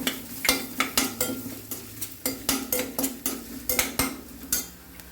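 A spoon scrapes and taps rhythmically around a pan while spices and onions sauté for mini rava idli, a quick series of distinct stirring knocks over a low sizzle, close and without voices.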